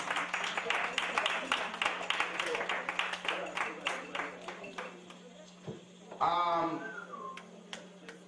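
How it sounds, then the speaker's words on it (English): Applause from an audience welcoming a performer named Deanna onto a stage, a dense patter of claps for several seconds that thins toward the end, followed by a brief voice. "give a warm round of applause and welcome on stage"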